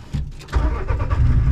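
A rally car's engine is cranked and fires back up after a stall on a rally stage, a short rising mechanical burst that settles into a loud, steady idle close by, with no talk over it.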